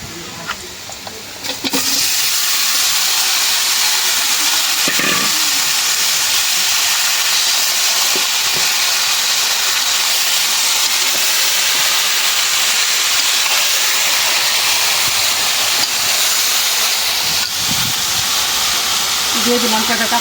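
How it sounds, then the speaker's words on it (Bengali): Beef hitting hot oil with fried onions in a pan, cooked for a jackfruit-seed beef curry, gives a loud, steady broadband sizzle and hiss that runs unbroken for the whole stretch, with a few faint clinks at the start. "এখন মাংস দিয়ে দিই"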